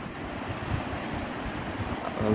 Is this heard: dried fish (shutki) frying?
no